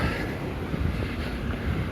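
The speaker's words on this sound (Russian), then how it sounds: "Не знаю, как там ветер задувает." Strong wind roars steadily against the microphone during early snowfall in Yakutsk, a continuous low rumbling buffet with gusty surges and no voices.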